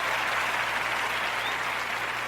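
Brief burst of dense crowd applause for Mac Jones, a continuous wash of clapping with no gaps and no voices, steady and fairly loud for a couple of seconds.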